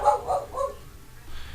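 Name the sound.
dog barking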